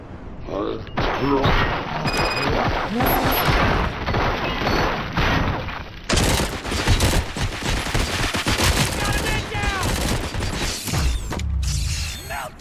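Gunfire in the video game RoboCop Rogue City, loud rapid bursts and mechanical clatter running continuously throughout, with game sounds layered over it.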